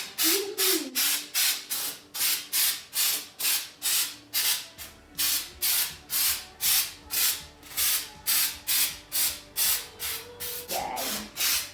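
Flocking snow sprayed onto a Christmas tree in rapid repeated bursts, steady rhythmic hissing puffs close by, around two per second, with a short whine near the end and no talk.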